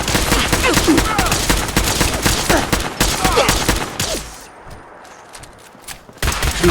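Attackers in Hellfire armor open fire in the video game Fallout 4, a rapid, close, loud stream of shots that breaks off abruptly, leaving a quiet gap before one last burst.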